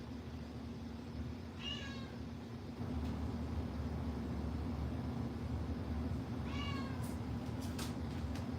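Two separate cat meows, about five seconds apart, rise over a steady low indoor hum in a home kitchen, with no talking.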